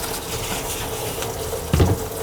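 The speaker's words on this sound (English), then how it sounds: "Something's dripping there. The faucet, so it's not the drain." Water drips from a leaking kitchen sink faucet, with a few soft, irregular drips over a low watery background and one brief louder splash near the end.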